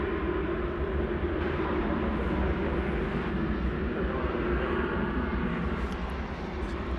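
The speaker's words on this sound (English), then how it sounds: "Let's take a look at American Airlines Flight 2770 coming in from Atlanta, the home of arch rival Delta and Airbus A321" An American Airlines Airbus A321 jet arrives at DFW Airport with a loud, steady, broadband engine roar that holds for the whole stretch, with a deep low rumble and no voices.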